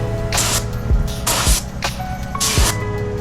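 Rust-Oleum color-changing metallic spray paint hisses from an aerosol can in three or four short bursts of about half a second each, close and loud, with brief pauses and rattling clicks between them.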